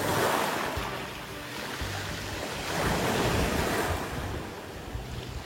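Waves roll in and wash over smooth round rocks on a rocky beach, a continuous loud roaring surf with rising and falling swells, wind buffeting the microphone throughout.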